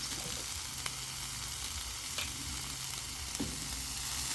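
Eggs and rice frying in butter on a Blackstone griddle, a steady low sizzle running throughout with a few faint scrapes and clicks, no talking.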